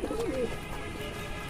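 A pigeon gives a short, low coo near the start amid a busy, noisy background.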